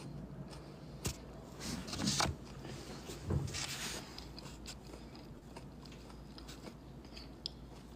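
Someone bites and chews crunchy English cucumbers up close, a few sharp crunches over steady low background hum, no talking.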